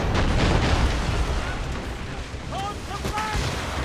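Ship cannon fire in the video game Assassin's Creed Rogue booms heavily at the opening and rolls into a sustained rumble, with brief shouted voices in the middle of the din.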